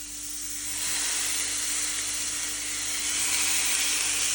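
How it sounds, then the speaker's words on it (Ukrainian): Steady broadband hiss of food sizzling in a hot frying pan while making broth, continuous and fairly loud, swelling slightly after the first second with no talking. "Пательня повинна так розігрітися, щоб ми чули шкварчання."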